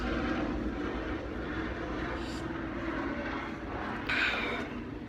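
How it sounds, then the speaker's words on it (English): Steady broadband engine drone of a police helicopter passing overhead, holding level for several seconds with a brighter swell near the end; no talking. "Police helicopter. You guys know the drill. Give it a second to pass."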